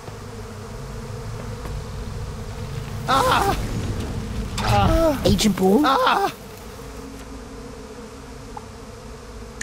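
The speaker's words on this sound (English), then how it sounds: "Want me to kill those bees?" A droning buzz of bees in the Psychonauts 2 video game runs steadily beneath everything, while a character speaks loudly over it for a few seconds in the middle.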